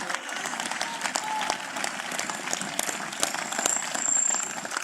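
A large church congregation at a gathering in Accra, Ghana, claps together: broad, dense applause running steadily at moderate loudness, with a few sharper hand claps and faint voices blended in.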